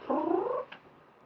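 A domestic cat gives a short, close vocal sound, a raspy trilling call lasting about half a second, followed by a faint click, alone in a quiet room.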